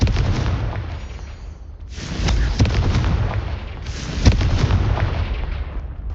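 Confringo blasting spells explode again and again in Hogwarts Legacy, loud booming bursts with rumbling low ends and crackling tails arriving in waves, with no talking over them.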